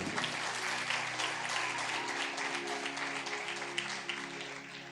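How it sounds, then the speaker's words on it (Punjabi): Congregation at a sermon clapping loudly and steadily, a dense wash of many hands held for the full stretch with a faint sustained tone beneath. "ਤਾਲੀ ਮਾਰੀਏ ਜ਼ੋਰ ਦੀ।"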